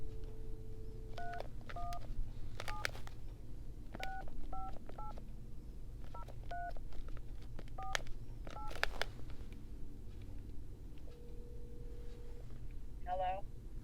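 A Tyco Garfield the Cat telephone gives a steady dial tone, then a series of short touch-tone dialing beeps in irregular bursts, with a faint trill near the end, over low background hum and some talking.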